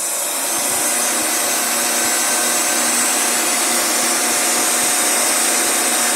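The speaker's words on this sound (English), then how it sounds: "I usually get a torch or heat gun to dry the surface a little bit so that it's not so soft and not so sticky" Steady whooshing blow of a heat gun drying the surface of a freshly thrown porcelain teapot spout, loud and continuous from start to finish with no talking.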